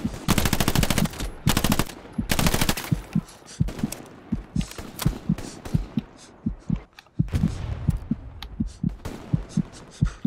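Rapid automatic gunfire and scattered shots from the Hell Let Loose battlefield shooter, loud and close, arriving in dense bursts with short gaps between them and heavy thumping impacts throughout.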